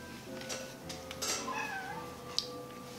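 A cat meows several times, drawn-out and plaintive, over a low background hum at moderate distance, with no speech.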